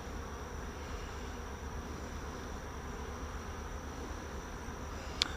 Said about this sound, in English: They're on the doorstep fanning, so they're calling their sister